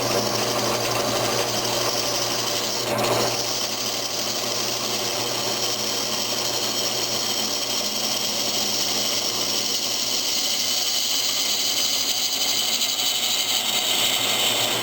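Wood lathe spinning a walnut blank for a table lamp while a gouge cuts a tenon: a continuous whirring hum with a steady cutting hiss, close and constant throughout, no talking.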